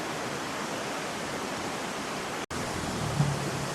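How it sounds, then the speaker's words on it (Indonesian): Rocky river flowing below a riverside campsite in West Java, a loud, steady rushing of water over stones heard close and continuous. "Bawahnya sungai berbatu-batu guys"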